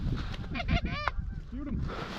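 Geese honk over a corn field in Manitoba during a hunt, several calls overlapping in a close, loud burst before trailing off into a couple of softer honks.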